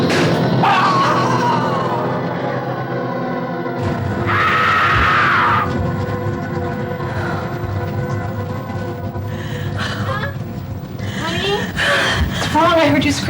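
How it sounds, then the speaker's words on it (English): A woman screams and gasps as she wakes from a bad dream, a loud strained cry with a sustained high shriek in the middle and shaky breaths that follow. "I heard you screaming next door"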